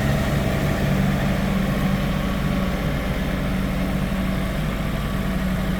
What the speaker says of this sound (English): my little tractor's really coming in handy, isn't it, Joe?